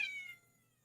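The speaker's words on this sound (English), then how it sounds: "Johnny kitty meowed at us" A cat gives a single short, close meow that fades quickly into a quiet room with a faint low hum.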